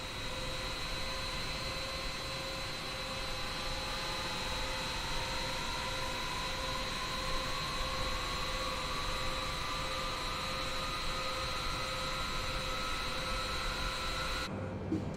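The Boeing 787 jet engines in Microsoft Flight Simulator hold a steady, loud whine and roar, with a tone slowly rising, sustained throughout without voices.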